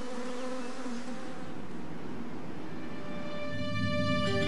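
Honeybees buzzing in Croatia, a dense continuous drone of many insects close by, steady and fairly loud with no voices.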